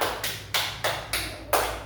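Hand claps in a classroom lesson on sound sources, five sharp, evenly spaced claps heard alone over a faint low hum.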